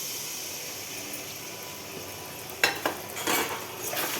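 A spoon stirs paneer rice in a pan with chili, tomato and soy sauce, giving a soft sizzling hiss followed by a few sharp scrapes and clinks of the utensil against the pan.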